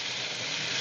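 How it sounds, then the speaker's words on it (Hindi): Oil sizzles in a hot pan during home cooking, a steady, close, broadband hiss that fills the whole short moment without any voice. "इसमें भी जाएगा, थोड़ा सा भी तेल डालूंगी"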